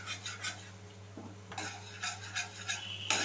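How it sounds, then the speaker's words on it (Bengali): A spoon scrapes and stirs ginger paste as it fries in a pan, with rhythmic metallic scraping strokes over a steady low hum, close and alone. "আদা বাটাটা দিয়ে খুব ভালো করে আমি ফ্রাই করে নেব"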